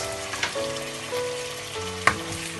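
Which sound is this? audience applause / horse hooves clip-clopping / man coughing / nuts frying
nuts frying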